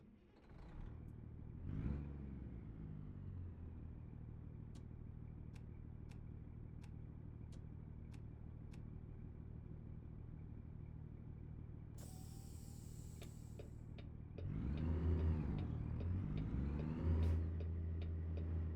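A truck engine in American Truck Simulator, hauling an oversize load, drones in a steady low rumble throughout, with a brief chime partway through and a louder surge of revving near the end, without any speech.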